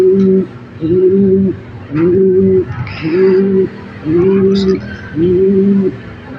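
A pigeon coos in a steady rhythm, six low, throaty calls evenly spaced, close by, while nesting on eggs.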